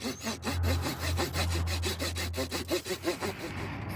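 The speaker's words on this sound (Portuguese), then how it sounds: "Agora vamos serrar ela, né?" A hand saw cuts through an acerola tree trunk with rhythmic back-and-forth rasping strokes, close and loud, with the wood grinding under each pass and no talk.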